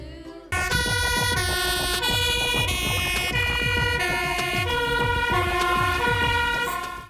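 A loud fire truck siren wails continuously, its tone rising and falling in repeated electronic sweeps for several seconds without pause.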